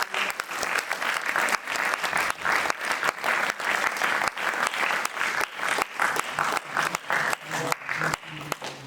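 A theatre audience at the Himadri Natya Samaroh festival gives loud, sustained applause after the play Khidki, with dense clapping continuing steadily throughout.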